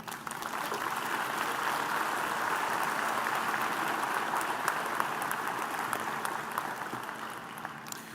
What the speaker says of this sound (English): let us applaud the recipients of all graduate degrees.